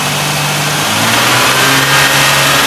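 A six-cylinder Ford Ranger engine with a loss-of-power fault revs up in a mechanic's workshop, a loud, close, sustained roar that climbs and holds as the throttle opens.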